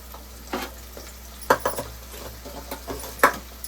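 A quiet background sizzle from frying for a gongura prawn curry, punctuated by a few sharp clinks and scrapes of a utensil stirring in the pan.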